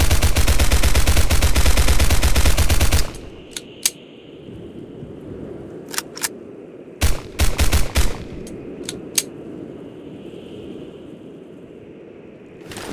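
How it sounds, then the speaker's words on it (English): A Heckler and Koch MP7 in the game Gorebox rattles off a sustained, loud burst of rapid automatic fire for about three seconds. A scattering of sharper single shots and short bursts follows over a quieter background. "Heckler and Koch MP7 or Machinen Pistol 7."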